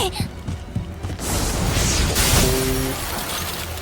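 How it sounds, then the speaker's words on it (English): Ice shattering in the Tsukihime video game, a sharp crackling burst followed by a sustained bright icy rush and a lingering tonal ring as the effect fades. "I hear the sharp noise of ice shattering behind me."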